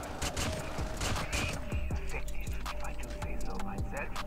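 Rapid video game gunfire from COD Mobile, with dense bursts of shots and action effects running continuously at moderate loudness in the background.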